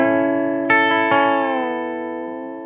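Electric guitar playing a country-style blues lick through effects, with sustained harmonic-rich notes, two sharp picked attacks and a held note that bends and falls back in pitch, ringing alone with distortion and echo.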